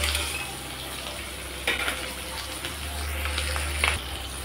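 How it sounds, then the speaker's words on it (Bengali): Pieces of hilsa fish fry lightly in hot oil, a soft steady sizzle with a few brief stirring clatters, close and fairly quiet with no voices. "মাছগুলো আমি একেবারে হালকা করেই ভেজে নেব, যেহেতু ইলিশ মাছ"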